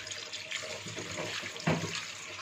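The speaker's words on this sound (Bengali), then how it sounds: "এবার জলটা দিয়ে দিচ্ছি" Water poured into a pan of braised, cooked-down meat: a steady close splashing, gushing flow with a brief louder surge near the end, no voices.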